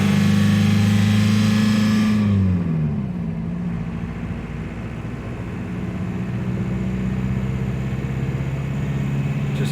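A TDI diesel-swapped Toyota pulls away towing a car hauler carrying a 1973 Scout II, its engine droning loudly and steadily. The pitch drops at a gear change, then climbs again as it gathers speed.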